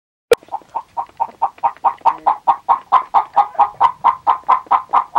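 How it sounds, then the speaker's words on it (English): A chicken clucks in a fast, steady run of short, evenly spaced calls that begin after one sharp click and grow louder, close and alone with no talk. "Chicken."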